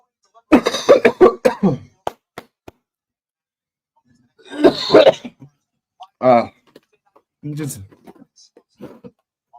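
A brief burst of voice is followed by a few harsh, separate coughs from a lingering illness, close and loud, with silence between them.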